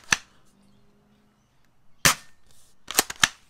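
An S1897 shotgun gel blaster fired over a chronograph, producing sharp, snappy shots: one near the start, then another after a pause, then a quick cluster of two more close together, each loud and brief with faint mechanical clicks between.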